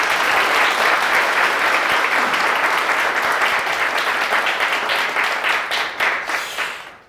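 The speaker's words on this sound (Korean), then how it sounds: "우리 한번 박수치고 시작하죠." Students at a university campus gathering in Incheon applaud loudly and steadily for about seven seconds, a dense wash of clapping that thins into scattered claps at the end.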